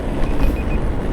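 An alarm sounding on a street in Stockholm, a few short, evenly spaced beeps ringing out over loud, rumbling traffic noise, with no voices.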